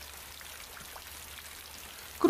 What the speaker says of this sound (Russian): Дождь разошелся не на шутку.